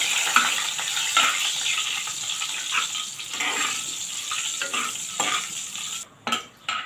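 Bay leaf and green cardamom sizzle in hot oil while a spoon stirs them around the pan, with steady frying hiss and scraping strokes that cut off briefly near the end.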